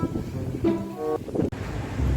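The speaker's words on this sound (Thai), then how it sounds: "โอ้ยลมแรง" Strong wind buffets the microphone at an outdoor children's playground at a provincial sports ground, a loud continuous roar with gusts, and a faint tonal whine briefly rising above it, with no talk.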